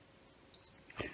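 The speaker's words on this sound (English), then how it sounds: "There's the double beep, okay?" A PS4 console gives a short, clear high electronic beep as its power button is held down, with faint handling and rustling noises following close by.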